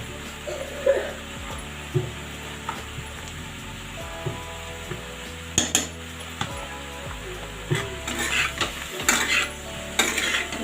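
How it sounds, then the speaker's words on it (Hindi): Besan gatte masala stirred and mixed in a pan, with repeated spoon scrapes and clinks against the metal over a low sizzle, the knocks bunching up toward the end. "अच्छे से मिक्स कर लीजिए इसे"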